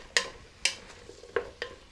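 Succotash vegetables coated in bacon grease are stirred in a pan, four quick separate scraping strokes against a quiet, faint background sizzle.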